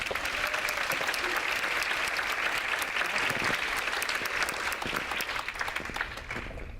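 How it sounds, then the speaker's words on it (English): A large audience at a social media breakfast event bursts into loud, sustained applause, a dense wash of many hands clapping that holds steady for several seconds before easing slightly at the end. "Could I get a big round of applause for Jenna and Carrie"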